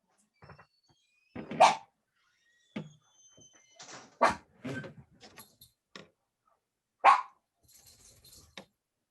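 Rescue dog indoors giving several short, sharp barks and yips spread irregularly across the clip, near and moderately loud, with quiet gaps between them and no talk.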